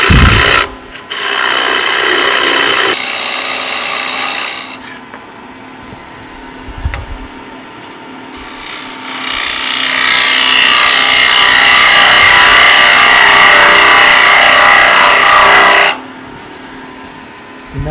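Wood lathe turning a wooden egg with a gouge, with long stretches of loud, steady scraping and cutting that rise and fall as the tool engages, with brief quieter pauses between passes.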